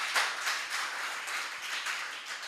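A morning export summit audience claps steadily, a dense, even patter of many hands that holds at a moderate level from start to finish.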